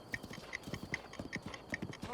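Horse hooves clip-clop in a steady, even trot within a video game, the hoofbeats close and clear, with faint talking underneath.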